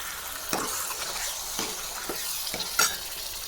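Water splashes into a pan of sizzling masala with green peas while paneer bhaji cooks, steady frying hiss with a few clacks and stirring strokes, close and moderately loud, no voices.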